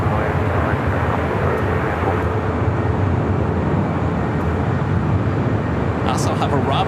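An Asiana A380 backtracks along runway 25 right at Los Angeles LAX, its jet engines giving a steady, broad roar at constant loudness, with a voice talking over it.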